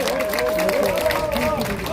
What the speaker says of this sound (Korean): 황교안 전 총리에게 큰 박수 부탁드립니다